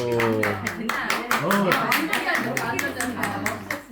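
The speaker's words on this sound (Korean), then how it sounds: "박수." At a Korean autobiography book launch event, a small audience claps in quick, evenly spaced beats while people keep talking over it.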